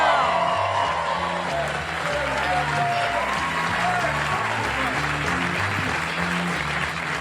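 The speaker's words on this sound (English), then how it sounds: "a big rousing round of applause for Mr." A comedy club crowd at Gotham Comedy Club greets comic Pat McGann with loud, sustained applause mixed with cheers and whoops, while walk-on music plays underneath throughout.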